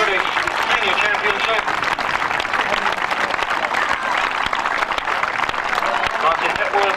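Steady, dense applause from the audience at the 1990 British Senior Individual Final in Norwich, greeting the top three finishers, loud and sustained throughout without a break.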